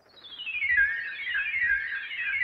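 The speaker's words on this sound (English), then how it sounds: "And then I added this little whistle thingy right here." A thin synthesized whistle sliding down in pitch, then wavering in a soft, repeating melodic pattern over a faint low pulse.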